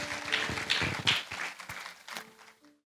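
A church congregation at Grace Central claps to welcome a speaker. Scattered claps from a modest group fade out within about three seconds, leaving silence.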